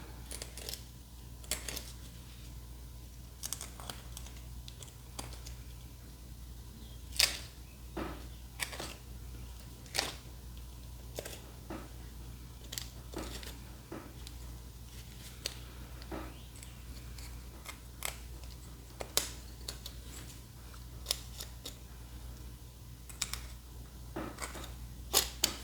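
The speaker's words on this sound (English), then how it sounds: "clean up these holes with a knife" A knife cleans up drilled holes in a homemade self-centering scribe tool, giving faint, sparse scraping clicks and ticks at irregular intervals over a low steady background hum.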